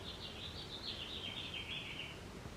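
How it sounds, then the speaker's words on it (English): Birds chirp in a quick, rapid series of high tweets that carry loudly and closely, as if echoing down a fireplace chimney, over a low indoor hum with no voices. "Do you hear those birds chirping?"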